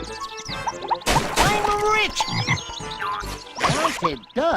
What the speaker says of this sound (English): maybe that'll stop the croaking